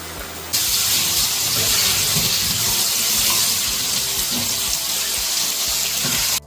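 Boneless chicken strips frying in hot oil, a loud, steady hiss and sizzle that starts abruptly and holds evenly before cutting off, with faint clatter underneath.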